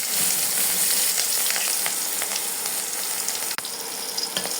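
Onion and panch phoron spice mix frying in hot oil for a bottle gourd dish with hilsa fish head, a steady close sizzle with a few stirring scrapes and one brief dip.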